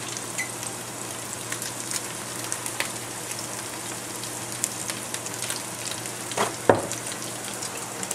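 Chickpeas fry and brown in a hot pan with a steady, close sizzle and crackle throughout, punctuated by a few louder scrapes or stirs near the end.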